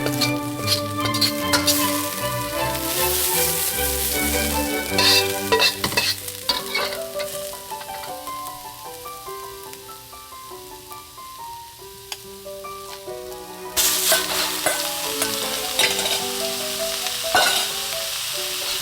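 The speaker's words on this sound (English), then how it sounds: "Stir briefly before adding the minced meat, breaking it up as it cooks into smaller pieces." Minced meat for a cabbage-roll filling fries loudly in a pan as it is stirred and broken up. A dense, continuous sizzle mixes with scraping strokes and swells again near the end, with a tonal melody underneath and no speech.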